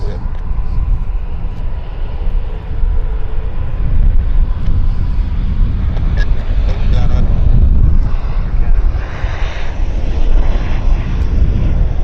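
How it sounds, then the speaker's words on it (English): An Airbus A330 airliner taxiing at Vancouver International Airport, a steady broad engine rumble with wind noise at a distance, continuous and fairly loud throughout. "maybe the 330 is now moving"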